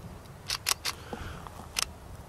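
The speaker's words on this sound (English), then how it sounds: "to your lens, via this ring here, and then it just slots on." A camera lens slots onto the body through its mount ring, giving a few sharp, close clicks and ticks in quick succession, then a final click a moment later, with no talking.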